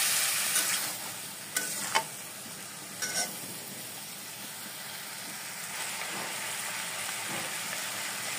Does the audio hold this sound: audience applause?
no